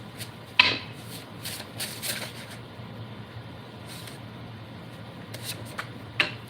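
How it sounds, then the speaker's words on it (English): A deck of cards is shuffled for a live card reading, with soft riffling and rubbing at close range and a few sharper snaps of the cards, over steady low room noise with no talking. "One more shuffle."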